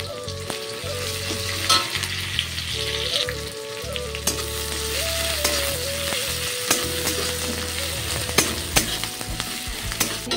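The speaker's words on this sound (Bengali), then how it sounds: "আর এইদিকে দেখো ফুলকপি আর আলুটা লাল লাল করে ভেজেও নিয়েছি।" Cauliflower and potatoes frying in oil in a pan, with a steady close sizzle, stirring scrapes, and occasional clatter throughout.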